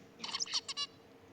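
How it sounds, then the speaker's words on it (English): A recording of real birdsong played during a lecture on nonlinear dynamics: a brief, faint run of quick high chirps and trills lasting under a second, heard alone without talk. "So this is the birdsong song."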